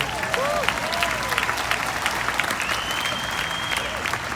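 Audience applause at a live Christian rock concert, a sustained, even wash of clapping from a large crowd with a few faint whistles rising above it.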